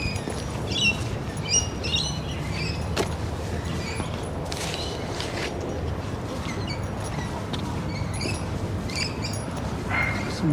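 Lorikeets chirp high in trees at sunset in Sydney, a steady chorus of shrill, scratchy calls heard from a distance over low outdoor background noise.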